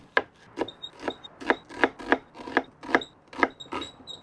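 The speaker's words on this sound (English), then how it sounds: "Next, you'll want some chopped red onion." Red onion being chopped with a knife on a wooden cutting board, about a dozen crisp, evenly spaced thuds in a steady rhythm, close and clear with no talking.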